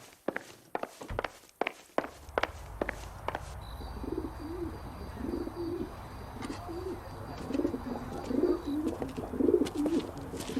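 Pigeons cooing in the video game L.A. Noire, soft repeated low coos building through the second half, following a run of sharp close footsteps at the start.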